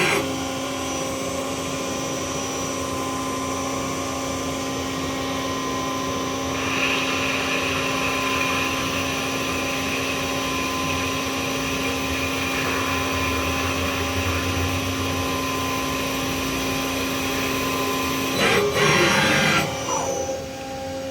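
Brass part center-drilled on a CNC lathe after the turret indexes down, a steady machine hum with tonal whine holding throughout, a brighter cutting band entering partway, and a louder rattling burst near the end.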